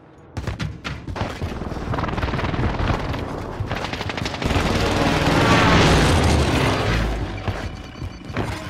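Artillery strike in the video game Call of Duty: Modern Warfare: heavy gunfire and booming blasts build into a long, loud rumbling roar that swells and then fades.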